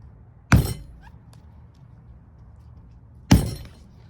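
Drengr Seax knife by Work Tuff Gear chopping into a soft food, two sharp, loud impacts about three seconds apart, each a brief crunching thunk that fades quickly into a quiet room.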